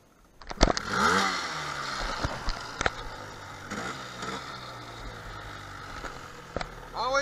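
A motorcycle engine is cranked and catches, sputtering and revving unevenly at close range with a few sharp mechanical knocks.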